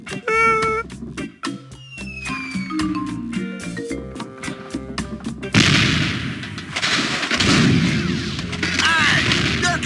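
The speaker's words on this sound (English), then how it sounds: "Hey, it's one of those new self-loading cannons I've heard so much about." A self-loading cannon fires again and again in The Curse of Monkey Island, starting with dense, booming blasts that get louder and harsher halfway through, with layered game music and effects underneath.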